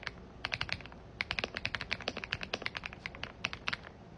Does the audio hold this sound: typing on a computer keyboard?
yes